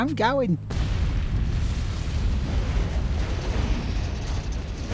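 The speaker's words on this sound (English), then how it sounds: "That's a mighty explosion hat." Explosion in a video game, a sudden loud blast that gives way to a long sustained roar and rumble lasting several seconds, following a brief game sound at the start.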